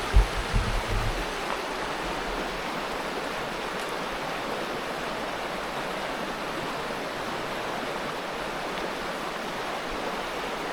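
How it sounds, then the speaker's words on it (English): An Idaho mountain stream runs full with snowmelt near a dispersed campsite, a dense, steady rushing roar that holds constant throughout, with a few brief low thumps at the start. "Yeah, there's a lot of water coming down."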